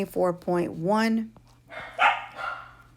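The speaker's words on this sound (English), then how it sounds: "Sorry about my dogs." A dog's barks and whining yelps sound close, in quick succession with a pitched, drawn-out cry, followed by someone speaking over a faint steady hum.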